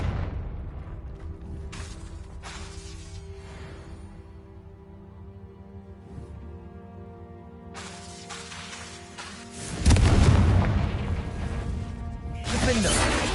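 Confringo fire spells in Hogwarts Legacy burst into booming fiery explosions, with a loud rumbling blast near the end and crashing impacts amid layered game music and effects.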